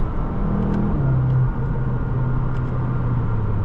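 A 2024 Audi S3 Premium Plus with a dual-clutch transmission accelerates, its engine note a steady close drone that rises in pitch over a few seconds under constant road and tyre noise.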